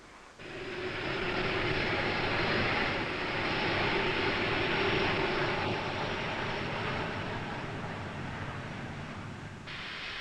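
A twin-engine Alpha Jet roars in a sustained, loud, broadband jet engine drone that holds steady for about nine seconds and then fades.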